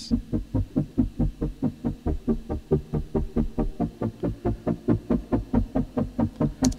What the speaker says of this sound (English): the lowest element right here in this break part is that wobble pad